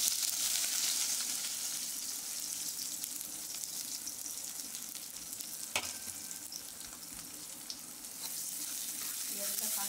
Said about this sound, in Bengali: জিরে ফোড়ন দিলাম, এবার দিয়ে দিচ্ছি পেঁয়াজ কুচি